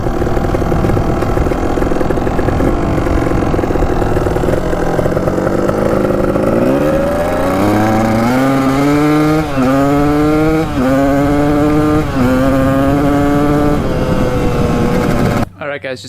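A cheap, used dirt bike with a major oil leak revs its engine loudly and close, the pitch climbing and falling in repeated rising sweeps before cutting off abruptly at the end.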